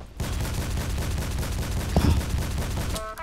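Rapid automatic gunfire from a video game rattles steadily and densely for about three seconds, with a brief heavier burst partway through and a faint voice at the end.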